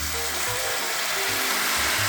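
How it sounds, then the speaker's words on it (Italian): Spaghetti all'assassina sizzles and crackles in a pan after water is poured in, half boiling and half frying, a loud close hiss with low bubbling thumps pulsing underneath. "Questa pasta un po' bolle, un po' frigge."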